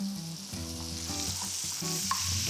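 Butter and brown sugar sizzle in a pan while being stirred for caramel, a close, steady frying hiss with low scraping and rumbling stir sounds throughout.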